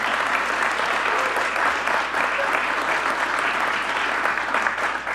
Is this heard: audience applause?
yes